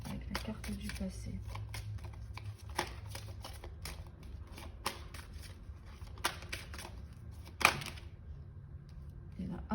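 Tarot cards shuffled and drawn close up, quick papery riffles and flicks with a sharper snap near the end, under a woman's soft French-speaking voice.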